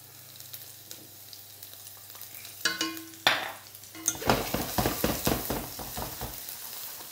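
Chopped garlic and shredded ginger hit hot oil in a wok and sizzle, starting with a faint simmer and then bursting into loud, crackling frying with stirring scrapes and clatter. No one talks.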